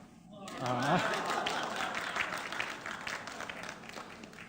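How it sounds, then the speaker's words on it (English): Applause from a conference audience rises after a short spoken remark and continues steadily, moderately loud, with some voices mixed in. "Normally, people clap hand now."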